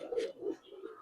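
Old-breed Bagha pigeons give a few soft, close coos in a quick low burst, faint and alone.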